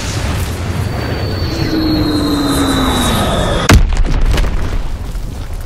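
Bombs from an air strike in Call of Duty WWII, on the Ardennes Forest map, fall with a descending whistle and then land in one loud, close explosive boom that rumbles on under continuous battle noise.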